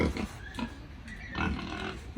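Pigs at a strawberry farm in Hong Kong grunting and snuffling steadily at close range under a continuous rough background noise, with faint voices mixed in.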